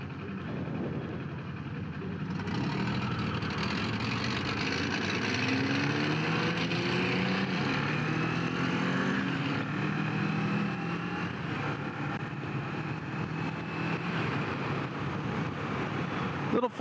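Kawasaki Z400 parallel-twin motorcycle engine pulling steadily on a city ride, a continuous loud drone heard up close with wind and road noise for the whole stretch.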